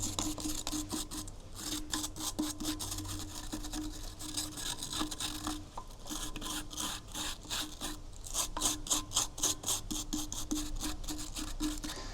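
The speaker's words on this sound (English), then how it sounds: "You can also use a small wire brush." Small wire brush scrubbing the lid of a metal bee smoker: a steady run of quick, raspy back-and-forth strokes, close and fairly loud, with brief pauses between bursts and no talking.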